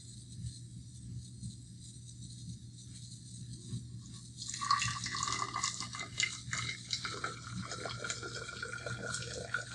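Water poured from a cup into a graduated cylinder during a burner lab, a splashing, trickling pour starting partway through and running steadily over a low steady hum.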